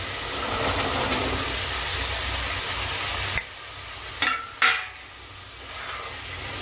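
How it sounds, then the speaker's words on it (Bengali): Boiled chickpeas stirred into a cooked spice masala with chaat masala, a continuous frying sizzle with a few sharp spoon-against-pan scrapes near the end. "এবার ছোলাটাকে আমি এই মশলার সঙ্গে ভালো করে কষে নিচ্ছি"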